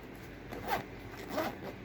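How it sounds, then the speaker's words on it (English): Two quick, close zipper pulls, each a short raspy zip, against a quiet background. "You bring the yarn up through there and then zip it up"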